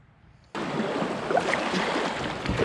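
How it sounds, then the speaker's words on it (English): Rapids on the Guadalupe River heard from a kayak: after a brief quiet moment, a loud, continuous rush of churning water takes over and stays steady. "Raging Rapids."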